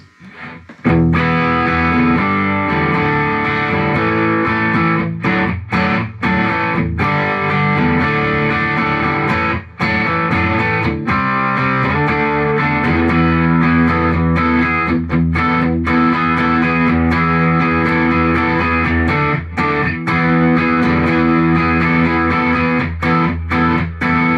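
A continuous electric guitar through a Nobels ODR overdrive pedal and a Fender Deluxe Reverb amp plays loud sustained chords and riffs, gritty and saturated, with no voices throughout.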